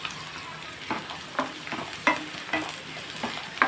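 Beaten eggs frying in a pan for egg fried rice, a soft continuous sizzle punctuated by several sharp spatula scrapes and taps at irregular intervals.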